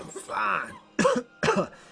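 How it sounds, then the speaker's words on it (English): A character in the video game Icy coughs three times, a long rough cough followed by two sharp, close bursts with brief pauses between them, alone without talk. "Hector coughs a couple more times before speaking again."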